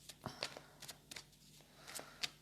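Tarot cards are shuffled by hand in a series of quick, crisp riffling bursts, close and fairly quiet, with short pauses between them and a faint steady hum underneath.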